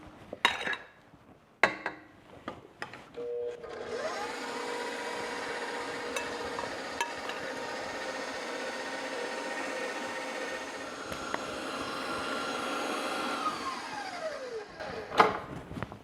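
A stand mixer with the paddle attachment beats loose butterhorn dinner roll dough, a steady whirring motor drone holding for about ten seconds with faint clicks and knocks at the start and end, close and alone.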